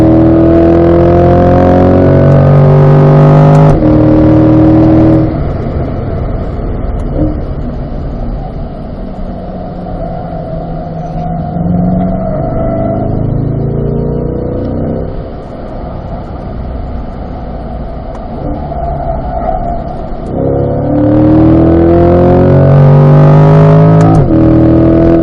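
A C8 Corvette on a race track, engine note loud and close throughout, easing off the throttle through a turn and then rolling back on, with a strong surge of acceleration at the start and again near the end.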